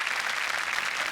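A studio audience at a Marathi comedy show applauds for a veteran saxophonist, a brief, even burst of many hands clapping at moderate level with no voices.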